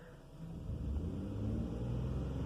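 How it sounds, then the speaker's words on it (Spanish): Car with its check engine light on, showing a P0300 multiple-cylinder misfire, revved in a stationary test: a steady close low engine rumble rising slightly in intensity, with no voices. "Vamos a dar unos acelerones o en su determinado caso una prueba de carretera"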